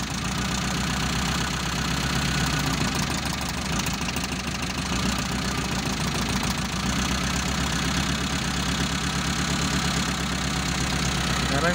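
A Mitsubishi Colt T120SS engine idles steadily throughout, a continuous loud mechanical rumble with a faint knocking texture, heard during a cylinder-by-cylinder test.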